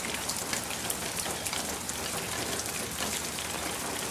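Storm rain falls steadily on surfaces around a house among trees, a dense, even patter of drops at moderate level with no voices.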